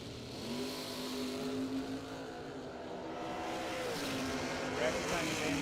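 A dragster at a bracket drag racing event makes its run, engine roaring and rising in pitch, heard at a distance under a track announcer's voice, with a steady crowd and track ambience throughout.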